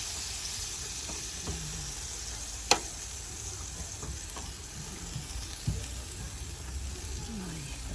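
Pork barbecue sizzles steadily on a grill, a continuous close frying hiss with a few small pops and clicks, no talking over it.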